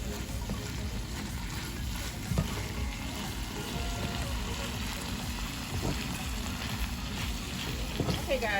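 Zucchini and chicken stir-frying in a pan, a steady moderate sizzle with occasional stirring clatter, close and continuous, with a voice speaking over it.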